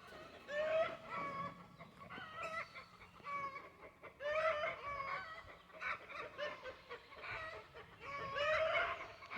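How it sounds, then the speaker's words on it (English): An Americana hen clucks loudly and repeatedly in rhythmic bursts after laying an egg, her agitated cackling rising and falling close by. "That's just a hen laying an egg."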